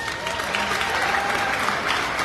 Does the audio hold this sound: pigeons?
no